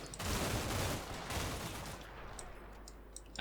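Gunfire in the Combat Mission Shock Force 2 video game, a dense rolling burst of rapid shots that thins out into a few scattered distant cracks, no voices.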